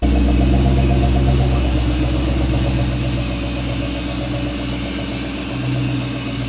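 A Ford Mustang Bullitt idles steadily with a low, even rumble and a faint ticking pulse throughout, close and fairly loud with no voices.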